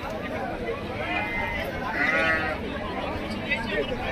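Goats bleat at a busy outdoor goat market where animals are sold for sacrifice, their cries rising over constant crowd chatter and livestock noise, with people talking nearby throughout.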